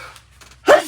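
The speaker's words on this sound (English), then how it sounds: "I'm gonna sneeze, shoot." A man sneezes once, a short loud burst that comes right after some quiet breathing.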